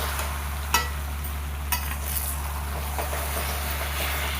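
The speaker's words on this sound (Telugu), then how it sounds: "వేసి మనం శుభ్రంగా కడిగి పెట్టుకున్న ఎర్రగోంగూర మొత్తం వేసేయండి. వేసి 5 to 10 మినిట్స్ వరకు బాగా మిక్స్ చేసుకోండి." Red gongura leaves stirred with turmeric in an oily pan: soft, occasional scraping taps and a light sizzle over a steady low hum.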